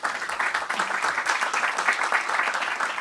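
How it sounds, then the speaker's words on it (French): Steady audience applause fills the space at a Business France event on setting up in Canada, dense and continuous clapping from a crowd with no voices above it. "Et on applaudit le Nouveau-Brunswick"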